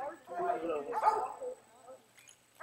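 A Walker hound pup barking at a treed animal while hunting raccoons at Saline Creek Bend: a few close, sharp barks and yips with short pauses between them, outdoors.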